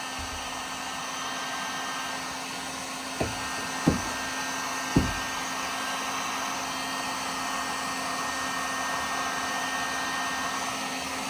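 A heat gun runs with a steady, even blowing whir as it softens old, hardened factory sound deadening inside a 2006 Dodge Ram Mega Cab, with a few sharp knocks partway through.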